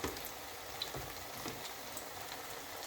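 Pilchard fish patties frying in a pan, a soft continuous crackling sizzle like light rain, fairly quiet and steady with a few faint pops.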